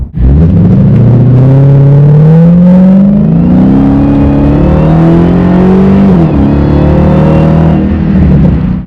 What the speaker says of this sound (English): That supercharger still whines.